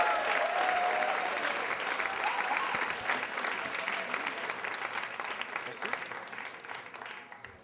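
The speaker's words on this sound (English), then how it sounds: "keep your applause going for Alethea Black" A theater audience at a storytelling slam applauds steadily, a dense wash of clapping that slowly tapers off over several seconds.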